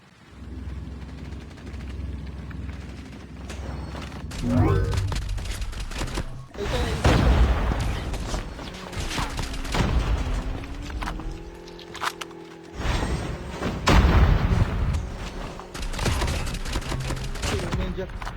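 Bursts of video game gunfire in a multiplayer shooter, dense rattling volleys and booms recurring across the stretch, loud and close, mixed with game sound effects and a low rumble while someone talks over the action.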